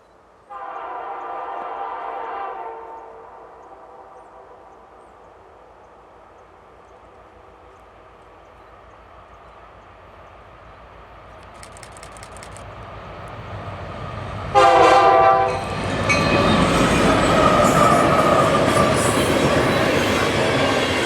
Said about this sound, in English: B705, this one originating on the Canadian National and bound for Philadelphia, Pennsylvania